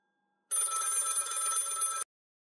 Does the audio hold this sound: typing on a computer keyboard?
no